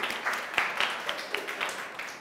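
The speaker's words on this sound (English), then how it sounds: "A clap for her." A class applauds a student during an English lesson, producing a short burst of scattered hand claps that rise and fall over about two seconds.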